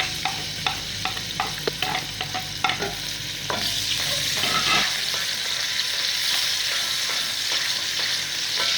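Garlic sizzles in a hot frying pan in an Egyptian home kitchen. A steady frying hiss runs throughout, louder after the garlic goes in midway, with a few sharp clinks of a utensil stirring against the pan early on and no talking.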